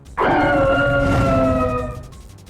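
Reshiram's newer cry in Pokémon Sword, a single sharp-onset howl with clear tonal overtones that rings for about two seconds and fades, heard alone.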